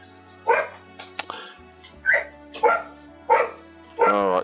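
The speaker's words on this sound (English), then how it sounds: "Oh, that'd be my dog getting upset with something." A dog barks and whimpers in an upset way, a series of about five sharp yelping bursts with whiny tails, fairly close, over a steady low hum.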